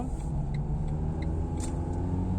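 A manual car's engine hums steadily inside the cabin as the clutch is released during a driving lesson, a continuous low rumble with a few faint ticks above it.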